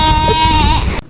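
A person imitates a goat bleating with one loud, close, wavering bleat of about a second that cuts off abruptly.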